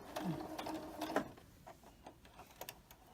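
A sewing machine stitching two pieces of quilting fabric for a beginner block, a quiet mechanical whir and ticking, busiest early and then fading into sparse soft clicks.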